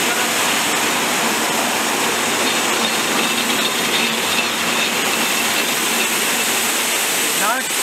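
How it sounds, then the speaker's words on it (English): A yarn spinning machine spins 100% wool into yarn, giving off a constant, dense mechanical whir and hum that holds steady and loud for the whole stretch with no talking. "I'm gonna put the spool onto the spinning machine."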